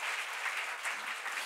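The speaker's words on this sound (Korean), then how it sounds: "박수로 하세요." A church congregation applauds during a sermon, with a continuous, fairly soft wash of many hands clapping and no clear pauses.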